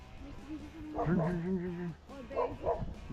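A dog on a walk with five dogs gives a few quick yipping barks and whimpering yelps, close and fairly loud, in short bursts over about three seconds.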